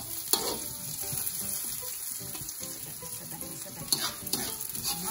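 Onions fry in a small amount of oil on a stove, a steady loud sizzle with occasional stirring clatter and scraping, continuous throughout with no talk.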